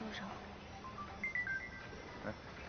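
A phone rings in an office scene of a Chinese romance drama, a faint electronic ringtone melody of short chirping tones playing under background sound.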